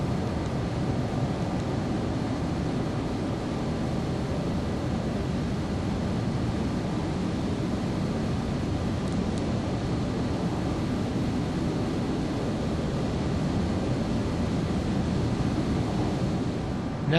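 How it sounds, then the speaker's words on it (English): The APU of an MD-11 airliner in a flight simulator game runs as a constant, even broadband roar with a faint steady whine, unchanging throughout. "Okay, now we're going to disconnect external power and air and then turn on the air APU."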